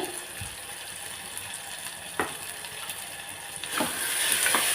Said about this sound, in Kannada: ಇಷ್ಟು ಮಿಕ್ಸ್ ಮಾಡಿ ಇದು ಎಣ್ಣೆ ಬಿಡೋವರೆಗೂ ಫ್ರೈ ಮಾಡ್ಕೊಳ್ಳಿ